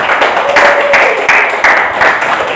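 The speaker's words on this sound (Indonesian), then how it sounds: "aplaus untuk kalian semua" Students in a classroom applaud together, a dense, steady wash of clapping at fairly close range that holds evenly for a few seconds.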